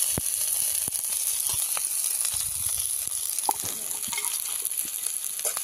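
Chopped onion sizzles in hot oil for street-style gobi manchurian, a thin steady hiss with scattered sharp crackles and pops, fairly quiet and without speech.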